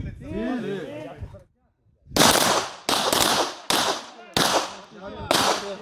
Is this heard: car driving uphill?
no